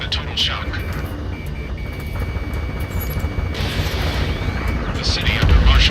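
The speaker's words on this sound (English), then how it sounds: "Gunfire and the roar of jets echoing through the streets." Ace Combat 7 battle over a city under martial law: continuous loud jet roar fills the scene with rumbling booms and gunfire beneath, and voices speak over the din.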